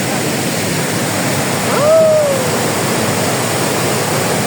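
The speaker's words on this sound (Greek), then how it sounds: "Θα βαρθείτε καταράκτη εδώ πέρα" Steady, loud rush of falling water from a waterfall at the Pozar thermal baths, a continuous broadband roar filling the whole clip, with a brief whistle-like tone briefly rising above it midway.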